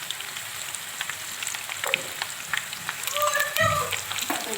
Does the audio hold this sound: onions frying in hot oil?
yes